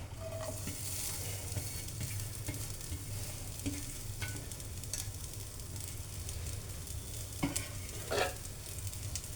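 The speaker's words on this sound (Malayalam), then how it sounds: "തേങ്ങ നമുക്കൊന്ന് മൂപ്പിച്ച് പിന്നെ എടുക്കാം." Grated coconut roasting in ghee in a pan gives a steady, close sizzle and crackle, with soft stirring scrapes and a few brighter pops near the end. No one talks.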